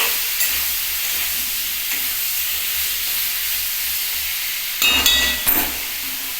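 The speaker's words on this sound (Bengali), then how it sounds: "এটা ভাজা হতে থাকুক" Steady sizzling of potatoes frying in a pan, a constant hiss with a few louder crackles and stirring scrapes near the end.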